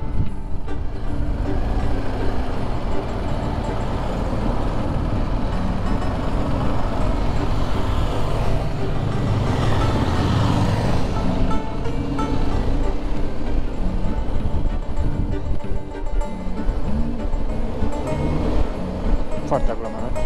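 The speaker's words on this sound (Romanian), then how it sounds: "Suntem în traficul infernal de Salonic de ora" Dense rush-hour city traffic in Thessaloniki, Greece, heard from a BMW R1250 GSA motorcycle: a continuous low rumble of engines with a heavy vehicle swelling past midway, all under a steady roar of wind and road noise.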